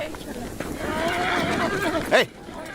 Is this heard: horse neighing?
yes